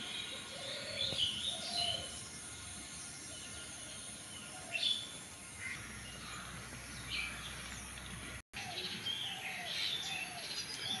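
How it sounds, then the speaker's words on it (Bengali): Small birds chirp and tweet in a garden at dusk, scattered bright calls against a quiet background hum, with a few louder chirps now and then, and one brief dropout near the end. "অথচ পাখির কিচিরমিচির শব্দ শোনা যাচ্ছে।"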